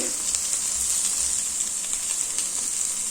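Whole spices fry with onion, ginger and garlic in a pan for a village-style egg curry, giving a steady, close, bright sizzle that runs evenly without pause.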